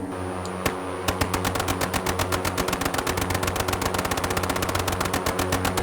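Gunfire from the OV-10 Bronco in Microsoft Flight Simulator: a loud, rapid, unbroken burst of machine-gun shots that starts after a single report and runs evenly for several seconds.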